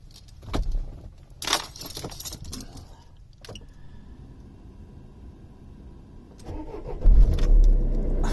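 Keys jangle close by, with a few clicks and a quiet pause. Then a narrowboat engine cranks and fires near the end, settling into a low, loud rumble.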